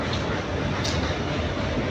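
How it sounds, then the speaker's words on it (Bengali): A train passing overhead on a track near an old temple in Howrah, heard as a continuous loud broadband rumble and roar for the whole moment. "উপর দিয়ে ট্রেন যাচ্ছে।"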